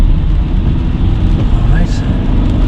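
A car pulls away in second gear on a suburban road during a driving lesson, its engine a steady, close, low hum under cabin noise, with no talk heard.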